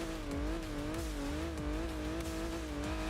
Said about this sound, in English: Already the V6 sounds good here.